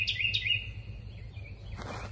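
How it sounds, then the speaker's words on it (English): Birds calling outdoors, a few bright chirping calls near the start followed by fainter calls and quiet ambient rumble. "Maybe this bird's trying to tell me something."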